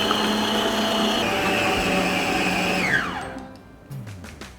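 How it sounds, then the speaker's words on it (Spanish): An electric stand mixer whirs steadily as it beats Swiss meringue at low speed, a loud continuous hum that winds down and stops, followed by a few faint clinks. "a nuestra batidora y empezamos a batir de a poco por 5 minutos a velocidad baja"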